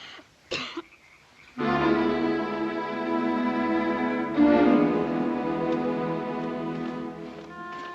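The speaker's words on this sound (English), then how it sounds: "Can't you control that miserable coughing?" A low, droning harmonic tone swells in after a short sharp cough near the start and holds steady, strong and close, with a brief surge midway.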